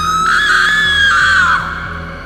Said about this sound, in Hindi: नीचे हॉल में अचानक एक तेज चीख गूंजी।